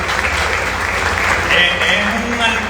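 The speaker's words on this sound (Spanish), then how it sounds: "un aplauso para doña Gloria" Audience applause at a book presentation, a steady, full burst of clapping from a seated crowd, continuous and fairly loud throughout with no speech.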